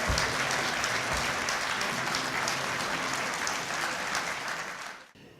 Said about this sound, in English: Can we give them a huge round of applause, please?